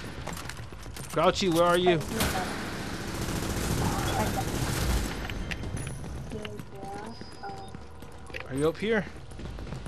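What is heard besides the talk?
shotgun fire in the video game The Division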